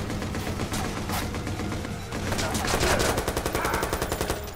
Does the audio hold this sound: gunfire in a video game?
yes